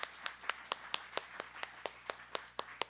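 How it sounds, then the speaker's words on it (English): A live audience applauds a group of fellows at an indoor reception, with distinct sharp claps in a steady, fairly even rhythm, moderately distant and thin, as though only a few people are clapping. "why don't we give a nice round of applause for our fantastic fellows"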